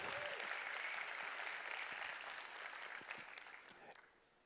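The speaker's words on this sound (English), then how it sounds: "Again, let's make a round of applause." Audience applause at a digital industry event, a dense wash of clapping that holds for a few seconds, then thins and fades out near the end, with faint voices underneath.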